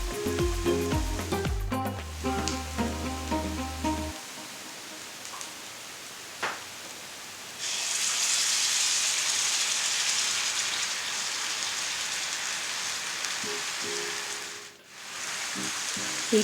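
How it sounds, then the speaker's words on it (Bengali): Ginger garlic paste sizzles in hot oil with onions in a pan, a steady crackling hiss that swells louder partway through. It follows a short stretch of music, and no one speaks. "এইটা ভালো করে পেঁয়াজ ভাজার সাথে মিশিয়ে ভেজে নিতে হবে"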